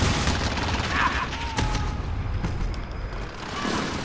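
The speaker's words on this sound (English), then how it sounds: "Enemy pursuit airstrike. Get down." Airstrike explosions in a first-person shooter game, a continuous dense barrage of blasts and gunfire rumbling loudly throughout, with in-game radio voices calling out over it.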